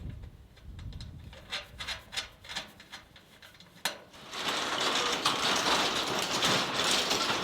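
Ratchet wrench tightening bolts on a Quonset hut under construction, with a run of quick clicking ratchet strokes in uneven bursts, a brief pause, then a denser, steady stretch of ratcheting and rubbing metal close by.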